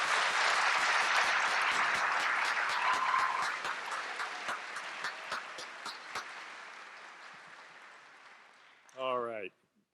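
Applause from a convocation audience for a graduating class at a university College of Education ceremony, sustained crowd clapping that gradually thins and fades, ending with a brief voice.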